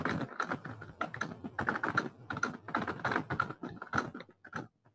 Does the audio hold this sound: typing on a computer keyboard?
yes